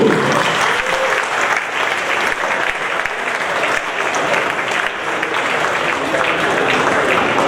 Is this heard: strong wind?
no